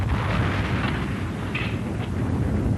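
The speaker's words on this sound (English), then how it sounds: "Sparkle, I've just picked up a huge explosion on the southern tip of the planet" A huge explosion on the southern tip of Mars in a Transformers animated cartoon, a loud, continuous low roaring blast rumble with crackling texture throughout.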